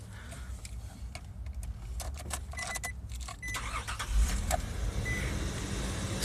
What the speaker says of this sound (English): Starting up the car